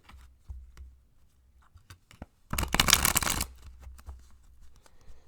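Tarot cards are shuffled by hand, with a dense, close riffle-and-slide burst lasting about a second amid quieter handling taps and rustles.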